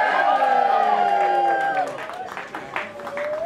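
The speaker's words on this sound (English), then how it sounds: "I'm going for the loudest cheer" A crowd at a cosplay contest final cheers, whoops and claps loudly to vote for a contestant, a dense roar that stays strong throughout and dips slightly near the end.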